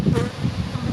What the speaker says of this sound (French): Ça s'appelle un essaim.